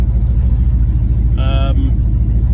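Steady, smooth low engine rumble of a 1968 Lincoln Continental running on Holley Sniper fuel injection, with a brief higher tonal whine partway through.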